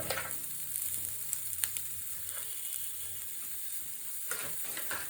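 Chicken pepper dry frying on low gas flame in a pan, a steady soft sizzle with occasional faint scrapes of stirring throughout, no voices.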